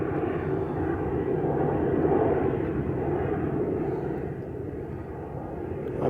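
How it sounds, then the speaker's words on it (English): Jet airliners taking off at Denver International Airport in the early morning, a steady, loud engine roar that swells slightly and then eases, heard from a plane-spotting spot with no talking. "as I sit here and watch these planes take off"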